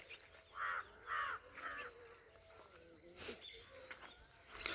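Crows caw on a natural farm in Kopargaon: several faint, harsh calls in quick succession, distant and soft, over a low background of insects and other birds.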